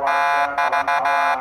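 A homemade siren module sounds its horn tone, a loud steady harmonic buzz with brief dropouts giving a pulsing, stuttered rhythm, heard alone up close.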